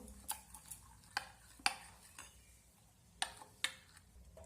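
A spoon stirs semolina batter with salt in a bowl, giving a handful of soft, scattered clinks and taps against the bowl's side over a quiet background with no voices.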